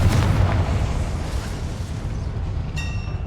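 Confringo fire blast spell in Hogwarts Legacy, a loud booming explosive burst that rumbles and fades over a few seconds, ending with a bright chime-like tone.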